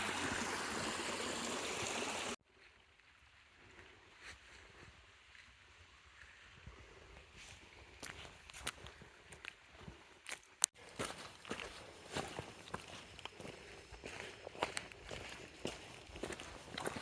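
Footsteps splash and slosh through a flowing creek along the Sheltowee Trace, with steady running water close by and irregular wading steps growing louder after a quiet start.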